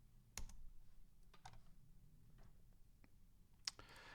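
Sparse computer mouse button clicks, a handful of sharp isolated ticks spread a second or so apart over a low steady room hum, close and fairly quiet.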